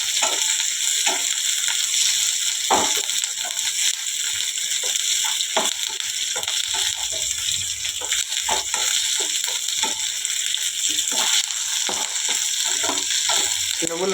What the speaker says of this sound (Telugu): ఇంకా ఇట్లా తెల్లగా వేగాలి మొత్తం.